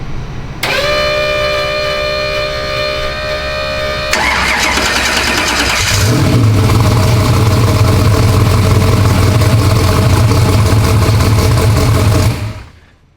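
A Black Sheep 2.0 race car engine is started with a whining starter, then catches and settles into a loud, steady, rumbling idle that runs for several seconds before cutting off abruptly.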